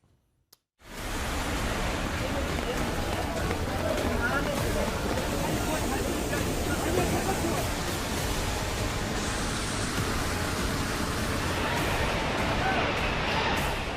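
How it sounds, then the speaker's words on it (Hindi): Rain-fed streams swollen by torrential rain in Jammu and Kashmir rush as flash floods through settlements. After a brief silence, a loud, steady roar of water starts abruptly and continues unbroken. "बरसाती नाले बस्तियों के बीच बहते चले जा रहे हैं।"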